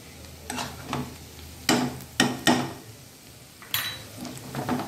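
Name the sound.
stirring ginger-garlic paste and curry leaves in a pan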